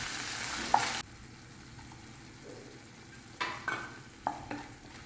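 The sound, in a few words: curry leaves added to a Malayalam curry, sizzling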